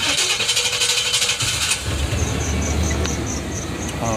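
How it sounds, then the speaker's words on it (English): A car engine cranks and catches, a loud burst of starter noise giving way after about a second and a half to a steady idle, with a faint high whine running over the running engine. "I'm gonna go ahead and start it on up."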